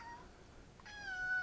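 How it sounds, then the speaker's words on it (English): A house cat gives a single meow near the end, clear and close, after a quiet stretch with faint background noise. "This is the cat."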